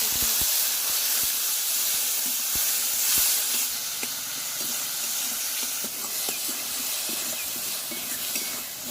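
Water hits fried spice paste in a pan for egg and raw banana kofta curry, giving a continuous close hiss of sizzling and steam. Sharp little pops and clicks are scattered through the hiss, and no one talks.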